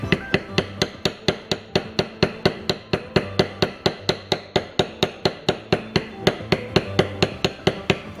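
A tooling mallet strikes a beveler steadily while the stem of a Sheridan-style leaf is beveled into leather, giving sharp, evenly spaced taps at a quick, regular rhythm, close and clear.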